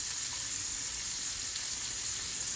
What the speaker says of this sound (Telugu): మళ్ళీ రెండో వాయికి కొంచెం కొంచెం చెంచాడు నూనె వేసి అదే పెనంలోను ఆ ఉన్న మిగిలి మిగతావి వేసేస్తున్నానండి